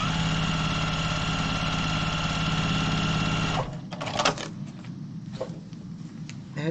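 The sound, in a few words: sewing machine stitching fabric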